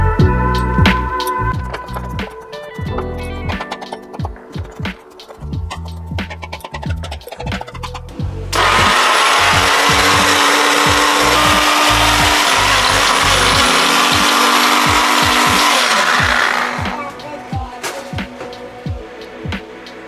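A blender whirring through homemade hot sauce made with vinegar and garlic chunks, a loud steady motor roar running about eight seconds between stretches of clattering kitchen handling before and after.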